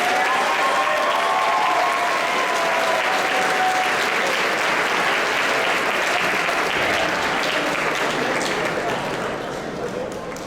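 Sustained applause from a crowd at a school athletics awards ceremony, steady dense clapping for about ten seconds that tapers slightly at the end.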